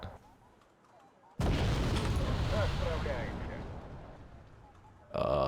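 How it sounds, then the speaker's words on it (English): A Bastion coastal missile strike in Wargame: Red Dragon lands as a sudden loud blast, then a long rumbling roar that slowly fades, ending in another sharp burst; someone talks faintly beforehand. "Because I have the Bastion missile."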